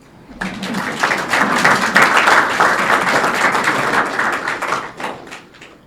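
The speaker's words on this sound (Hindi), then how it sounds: "बच्चा लोग बजाओ ताली।" A crowd bursts into dense, enthusiastic clapping that holds steady for several seconds before tapering off.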